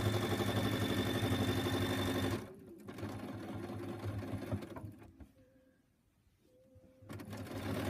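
A sewing machine stitches a ruler-guided quilting design with a steady, loud mechanical whir, then slows into softer intermittent runs and a brief pause before starting up again.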